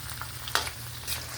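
Unripe tomatoes added to a hot frying pan, a steady close sizzle with a low hum underneath and a couple of faint clinks of stirring.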